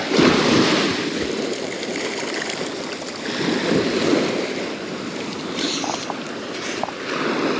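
Ocean waves breaking on the shore at Laguna Beach, a loud continuous surf wash with swelling rushes and heavy wind noise on the microphone, a few faint clinks near the end.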